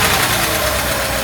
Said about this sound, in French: si vous accélérez, la voiture elle va ratatouiller